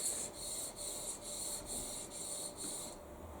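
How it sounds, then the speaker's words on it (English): Car parts being rubbed with kerosene in straight back-and-forth strokes, a rhythmic hissing scrape repeating about seven times, close and steady with no talk. "So I'm just going to rub it backwards and forwards in a nice straight line, literally just about 4 strokes."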